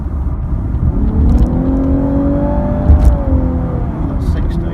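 A 2017 Lexus LC 500h Sport+ hybrid V6 coupe accelerating hard, with a loud rising engine drone and whirring electric tone building steadily as speed climbs, heard from inside the car.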